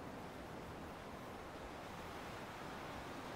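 Waves wash in on a Scottish coastal shoreline, a soft continuous surf hiss with no distinct breaks, faint and distant-sounding, with no voices.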